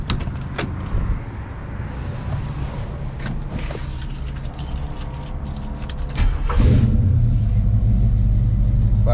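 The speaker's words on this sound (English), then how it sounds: "We'll go ahead and fire this thing up though." A 1939 Chevrolet Master Deluxe engine cranks and catches near the end, settling into a loud, low, steady idle after a stretch of quieter rumbling and mechanical clicks.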